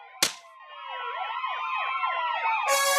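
A fire engine siren sound effect in a comedy sketch wails up and down in a rapid, repeating sweep. It opens with a sharp crack and ends with a harsh burst, loud and close, with no talking.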